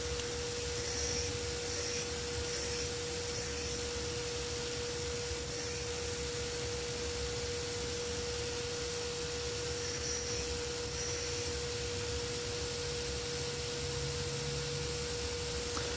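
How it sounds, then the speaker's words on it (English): A belt grinder with a fresh 60 grit ceramic belt grinds the bevels of a forged full tang knife, giving a steady, even abrasive hiss that runs unbroken throughout with no voices. "I think I'm using a fresh 60 grit ceramic belt for this."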